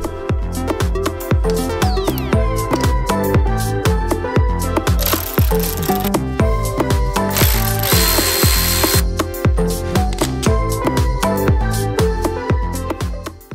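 Hand tools remove the front sprocket cover from a motorcycle, producing rapid, rhythmic ratchet clicks close to the microphone, with short bursts of harsher mechanical grinding partway through.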